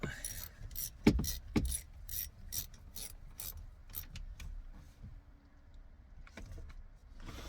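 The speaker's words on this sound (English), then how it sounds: "Okay, got some more ratchet now." A ratchet wrench clicks in short bursts while turning bolts on an Audi S5 V8, the pawl ticking close by between clanks and pauses of quiet.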